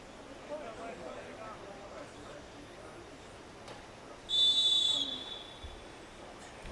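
A single sharp, high referee whistle blast sounds partway through at a university American football game, Yamaguchi against Shimane, lasting under a second beneath steady play-by-play commentary and faint crowd background.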